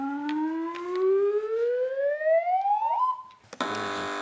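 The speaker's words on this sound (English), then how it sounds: "Fingers on buzzers, teams." On a TV panel quiz show, a whistling tone climbs steadily in pitch for about three seconds, stops briefly, then a harsh, buzzy quiz buzzer sounds loudly and holds to the end.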